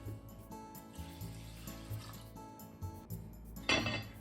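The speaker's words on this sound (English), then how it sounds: "I'm adding 2 cups of water." Water is poured from a measuring cup into a pot of rice grains, a gurgling, splashing stream with small clinks against the pot, close and fairly quiet, ending in a brighter splash.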